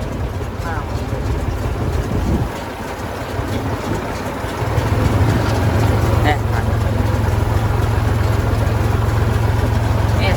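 An IMT 539 tractor engine runs steadily, its low rumble rising and thickening about halfway through as it revs and moves off, with speech under the engine noise.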